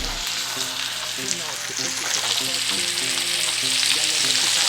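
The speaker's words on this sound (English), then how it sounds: "All right, so we got our steak, and we're gonna throw it on the pan." A NY strip beef loin steak sizzles loudly in a hot pan, a steady bright frying hiss with crackling spatter, plus faint background tones.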